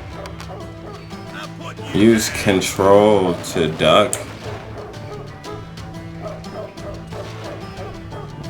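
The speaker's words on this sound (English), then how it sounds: "Are there dogs?" Dogs in the Western shooter Call of Juarez: Gunslinger bark and yelp in a rapid cluster over game music and effects, loudest in the middle of the passage, with a voice talking over the action.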